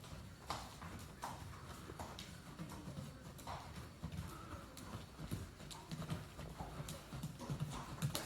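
A horse's hoofbeats clip-clop in a steady rhythmic gait in a riding lesson, faint and fairly distant, with occasional quiet talk.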